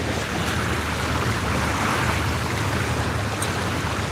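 Wake waves from a passing boat wash in on a winter catfishing outing, a dense, steady rushing surge of water that stays loud throughout with no voices.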